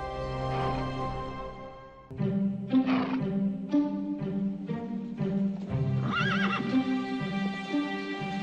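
A heavy workhorse neighs loudly and close by in long, wavering whinnies, with a few scattered hoof clops around the calls.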